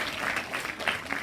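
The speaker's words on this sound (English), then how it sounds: "one more round of applause for this young friend of yours." Dense, continuous applause from a school science-fest audience for a student team, a steady wash of many hands clapping at moderate volume throughout.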